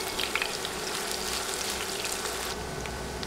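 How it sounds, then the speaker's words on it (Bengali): Two large sliced onions frying in oil while being stirred, for a boal fish curry, giving a close, dense, continuous sizzle with crackling pops and no voices. "নেড়ে নেড়ে পেঁয়াজ নরম হওয়া পর্যন্ত ভেজে নিব।"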